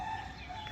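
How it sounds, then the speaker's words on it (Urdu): A rooster crows in the distance on an early morning walk, a brief faint call under steady outdoor ambience. "اور پیچھے سے مرغے کی آواز بھی آ رہی ہے."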